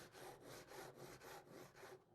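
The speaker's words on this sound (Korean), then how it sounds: "자, 이렇게 해서 톱질을 해볼게요." A hand saw cuts into wood for a tenon joint with quick, even back-and-forth strokes, about seven rasping pushes and pulls in a close, clear rhythm that stops at the end.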